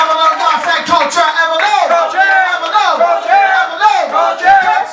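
A crowd at a Newark community open-mic event chants back in call and response, with loud overlapping voices rising and falling in short rhythmic phrases throughout.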